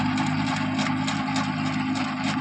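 A small tractor pulling a small rotavator runs steadily through a grass field, its engine a constant close-up drone alone without pause.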